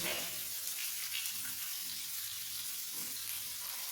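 Vegan-cooking onions hitting a hot pan give a steady, moderate sizzle with a soft crackle and faint stirring underneath, heard up close.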